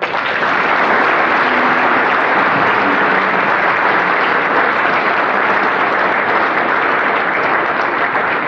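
Sustained, loud audience applause at a Chamber of Commerce banquet as a speaker is welcomed, dense steady clapping from a large crowd with no letup.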